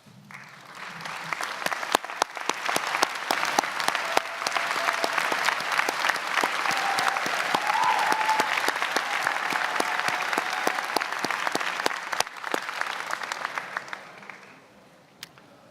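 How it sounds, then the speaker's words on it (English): A large commencement crowd applauds graduates' families and friends, sustained, dense clapping that swells and holds steady for about fifteen seconds before tapering off, with a few sharper individual claps standing out. "would you please rise and honor them with a round of applause"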